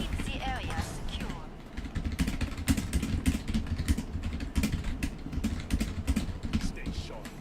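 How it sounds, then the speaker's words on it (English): Rapid keyboard typing clatters steadily for several seconds during a Killing Floor 2 gaming session, close and fairly loud, mixed with low game sounds and indistinct voice chatter underneath. "Sorry for the typing sound."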